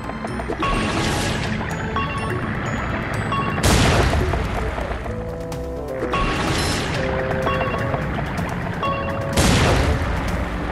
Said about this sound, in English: shoot the Dutchman's cannons to destroy the robot ship